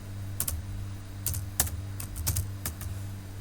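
Typing on a computer keyboard while entering MSWLogo commands, several light separate key clicks at an uneven pace over a steady low hum, with no voice.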